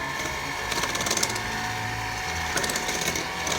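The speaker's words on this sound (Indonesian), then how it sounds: "Saya mau kocok dulu menggunakan mixer." An electric mixer beats dough for Indonesian kastengel cheese cookies, a close buzzing whir with rattling bursts against the bowl, steady throughout.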